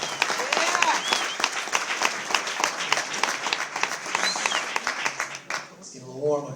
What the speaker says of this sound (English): So a big round of applause for those people that make that happen.